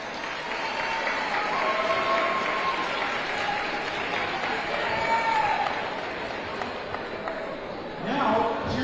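An audience applauds a senior at a high school basketball game, with steady, dense clapping and crowd noise filling the gym, and a swell of cheering near the end.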